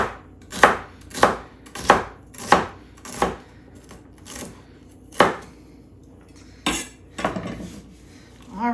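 A knife chops celery into pieces on a cutting board for hamburger soup. Sharp, close knocks land in a quick, fairly even rhythm, then come more sparsely after a short pause, with no talking.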